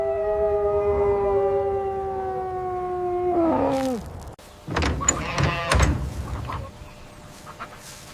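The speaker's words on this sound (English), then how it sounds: "Large white Arctic wolf." A large white Arctic wolf gives one long, sustained howl that holds steady and then drops away, followed by scattered clattering and rustling noises.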